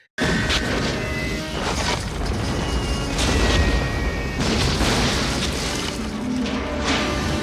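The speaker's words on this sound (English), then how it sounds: "the penguins all launch their missiles into his base" A chain of loud booms and crashing impacts from missiles striking a base in a film scene rolls on continuously, dense and heavy like explosions in an action sequence.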